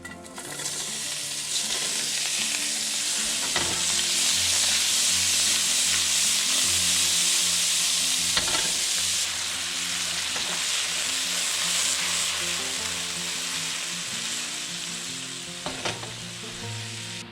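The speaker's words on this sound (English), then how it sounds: "Then I'm going to toss in my mushrooms." Morel mushrooms fry in peanut oil over high heat, a loud, steady sizzle filling the pan with occasional stirring scrapes and knocks cutting through, no voices.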